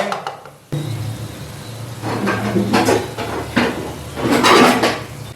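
Spiced cabbage and potato sabzi mixed in a pan, loud close scraping and clanking of a spoon against metal in uneven strokes.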